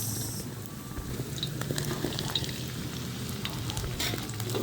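Carrots tipped into a hot pan for patola soup with meatballs, giving a steady, close frying sizzle with light crackles and occasional stirring clicks throughout.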